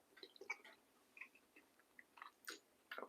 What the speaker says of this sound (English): You hear that crunch with that string bean.